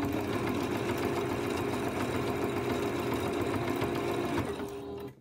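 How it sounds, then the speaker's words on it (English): A sewing machine running a straight stitch to attach binding on a potholder, a steady close whirring hum that holds for several seconds and then winds down and stops at the end. "So I'm just going to stitch it all the way to the corner"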